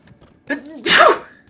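A single loud sneeze lands close to the microphone, a short wheezy intake followed by a harsh explosive burst that fades over about half a second, heard during a Hollow Knight: Silksong play session.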